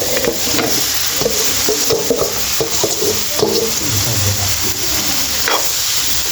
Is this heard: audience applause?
no